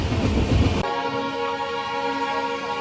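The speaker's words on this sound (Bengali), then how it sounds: "এখন আমাদের ট্রেন ছাড়লো লঙ্কা স্টেশন" A train pulls out of Lanka station in northeast India. Broadband rumble cuts off abruptly into a steady, sustained tonal horn-like drone with rolling rail noise beneath, fairly loud and close, no voices.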